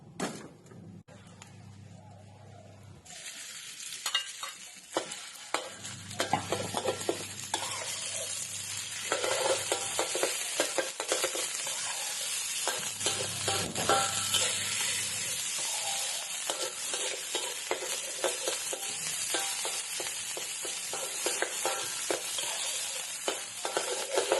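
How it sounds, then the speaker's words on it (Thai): Curry paste sizzles softly over low heat while a utensil stirs and scrapes it around the pan, with a few intermittent clatters and a background tone that comes and goes. "ไฟอ่อนๆ นะคะเราผัดพริกแกงหอมๆก่อน"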